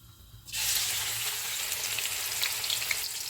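Onions drop into hot oil already frying cloves, green and black cardamom and cinnamon, bursting into a loud, steady, close sizzle that holds without a break.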